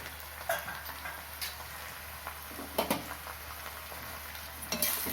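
Bitter gourd sautés in a pan for kara kuzhambu with a quiet, steady sizzle. A spoon scrapes and taps against the metal now and then, and no one speaks.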